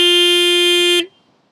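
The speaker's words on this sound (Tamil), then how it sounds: "அது இல்லாமல் ஹார்ன் எப்படி இருக்குன்னு பார்த்துருவோமா?" A single loud, steady electric horn blast from a Royal Enfield Guerrilla 450 motorcycle, lasting about a second, then cutting off abruptly into near silence.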